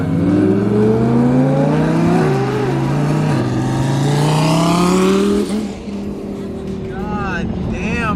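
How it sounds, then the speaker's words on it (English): A twin-turbo Lamborghini Huracan roars nearby, revving up through rising gears with a loud whooshing turbo note, then easing off. "God damn, bro, those turbos are so loud."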